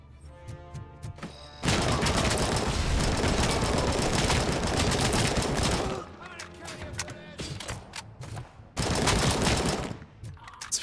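AK rifle fire in RoboCop: Rogue City comes in loud sustained automatic bursts, one long volley, then a pause with scattered shots, then another burst.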